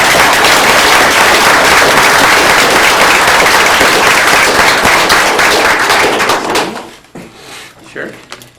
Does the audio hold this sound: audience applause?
yes